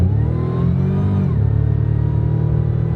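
A Pontiac Fiero's engine revs as the throttle opens, a loud, close mid-pitched drone that climbs, briefly dips as it shifts, then holds steady and strong with no talk over it.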